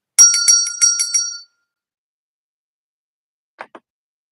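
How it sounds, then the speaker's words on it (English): A bell rings out in a quick run of about five bright, clear strikes in little over a second, close and loud, followed by silence and two faint light ticks a couple of seconds later. "All right, William, we're going to ring the bell."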